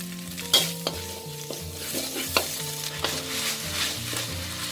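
Thai curry paste stir-fried with kaffir lime leaves in a pan: a continuous loud sizzle broken by sharp spatula scrapes and taps, over soft background music.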